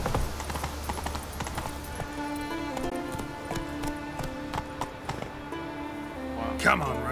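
Hooves of the horse Roach clip-clop in a steady rhythm through a video game, over background music with someone talking.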